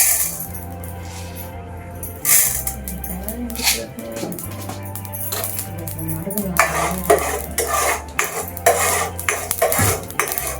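Spices tempering in hot oil in a pan on a lit stove, stirred with a utensil, as the base for a soya chunks curry: a light sizzle with frequent metal clinks and scrapes over a steady low hum.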